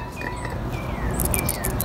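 A freshly cleaned Toyota Corolla PCV valve is shaken by hand, giving faint, quick, light metallic clicking rattles near the end over quiet room noise.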